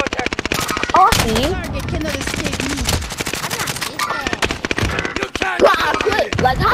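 Dense rapid gunfire from an H4 Blixen in an online shooter match set in a prison map keeps up steadily, loud and close, mixed with game effects and a player talking over it.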